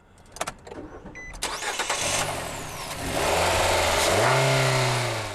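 A 2015 Nissan Micra's 1.6-litre four-cylinder engine cranks and starts with a few clicks, then revs up and settles into a steady, loud drone close by.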